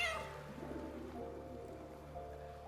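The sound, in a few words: cat meowing in the video game Baldur's Gate 3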